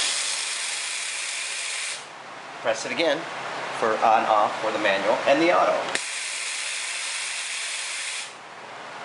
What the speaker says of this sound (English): I'm going to go ahead and start with the steam ones.